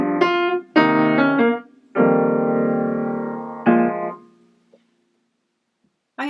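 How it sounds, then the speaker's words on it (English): A short solo phrase ends on a sus chord, played as a few separate bursts of sustained, harmonically rich notes, with a long held tone before the sound fades to silence. "So the last chord really needs to be more of a sus chord"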